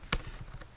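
A few quick keystrokes on a computer keyboard while entering a command, one sharp click followed by softer taps, close and brief with no talking.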